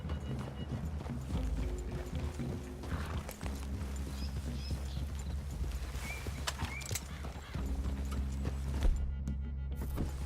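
Horses in the Red Dead Redemption 2 video game walk with steady clip-clopping hooves and give an occasional neigh, close and moderately loud, with brief talk in between.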